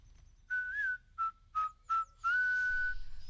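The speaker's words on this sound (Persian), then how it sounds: "سوت بزن وقت کار،" A person whistles a bright tune alone: several short separate notes, then one long held note, clear and close.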